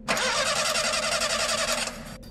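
A car engine cranks with a steady rapid churning for about two seconds, then cuts off abruptly; close and fairly loud.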